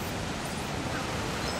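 Rushing waterfall in the video game LEGO The Lord of the Rings, a steady, dense roar that fills the whole stretch at even loudness with no talking over it.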